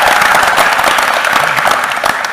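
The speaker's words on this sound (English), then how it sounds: "Why does Evan get such claps every time?" A live audience at a private show at The Ice House applauds, a dense, loud burst of clapping from many hands that holds steady for a couple of seconds and then starts to fade.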